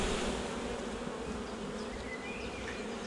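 Honeybees buzzing at an open hive on an apiary during swarm season in poor April weather, a dense steady hum of many bees, close and continuous, with a few single bees whining past.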